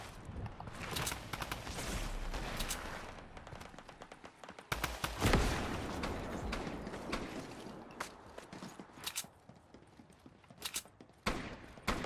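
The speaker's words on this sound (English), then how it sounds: "Sounds like a hunting rifle." Repeated hunting rifle gunshots ring out in a Fortnite duos match, sharp loud cracks spread irregularly through the stretch with a dense burst near the middle, over a busy background of game noise.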